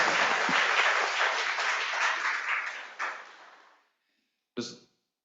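An audience at a panel discussion applauds, a dense burst of clapping that fades out after about four seconds, followed by silence and one brief sharp knock or clatter.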